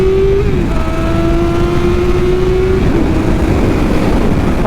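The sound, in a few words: Kawasaki ZX7R motorcycle accelerating in 2nd gear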